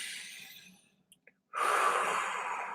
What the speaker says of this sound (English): Take a deep breath, breathing in the bubble